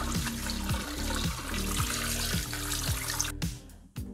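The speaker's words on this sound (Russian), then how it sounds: "открыть холодную воду и промыть кальмар под холодной водой" Cold tap water runs steadily over squid in a kitchen sink, a continuous close splashing stream that cuts off near the end.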